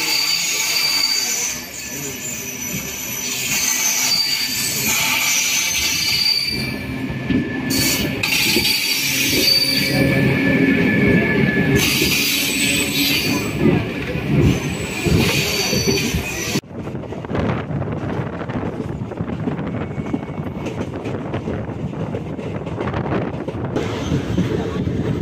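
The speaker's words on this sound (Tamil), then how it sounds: "ஸோ ஆப்போசிட்டில் கண்டிப்பாக ஏதோ ட்ரெயின் வருது." A train on the opposite track rumbles and squeals past close by, heard from aboard the Bengaluru–Tirupati Intercity Express, loud and steady, then the roar drops to a lower rattling hum as it clears.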